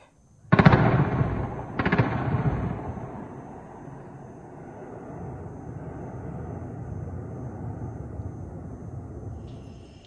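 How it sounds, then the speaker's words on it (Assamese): Two loud explosive blasts, about a second apart, followed by a long rumbling roar and a steady background din, consistent with gunfire and explosions during Pakistan drone attacks. No one speaks. "বিস্ফোৰণৰ প্ৰচণ্ড শব্দ শুনিবলৈ পাইছে"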